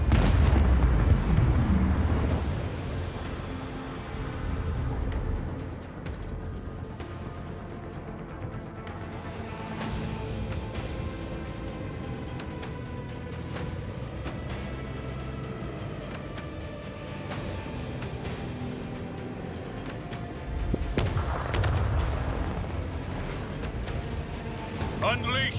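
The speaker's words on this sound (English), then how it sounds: "Unleash the power of our lance batteries." Starship lance batteries firing in Warhammer 40k: Rogue Trader, a sustained deep rumbling barrage with heavy booming surges at the start and near the end, under a voice talking.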